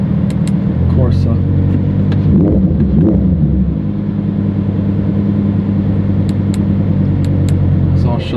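A 2022 Lamborghini Huracan EVO with an Akrapovic titanium exhaust rumbles at idle and revs up briefly, a deep, loud engine growl close by with a few sharp blips.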